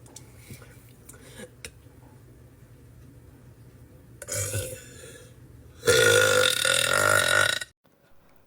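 A woman lets out loud, drawn-out burps: a shorter belch midway, then a long, strained, close burp near the end, preceded by quiet breathing and faint clicks.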